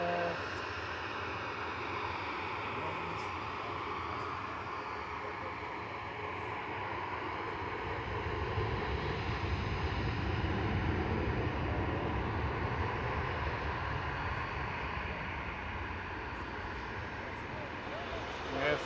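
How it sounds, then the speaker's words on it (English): An Airbus A380 airliner passes directly overhead at Manchester Airport. Its broad engine rumble builds and deepens about halfway through, then holds as a sustained roar. "A380 right above us"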